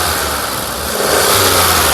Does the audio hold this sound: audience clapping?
no